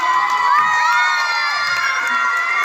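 Audience at an annual school prize distribution ceremony cheering and shouting loudly, with children's high voices prominent in a continuous crowd roar.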